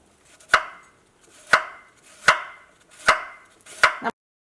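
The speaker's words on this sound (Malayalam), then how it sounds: "ഈ ഉരുളൻകിഴങ്ങ് നല്ല പൊടിയായിട്ട് കട്ട് ചെയ്തിട്ട് എടുക്കണം." Knife finely chopping a peeled potato on a board: five evenly spaced, sharp, close chops about one per second, no voices.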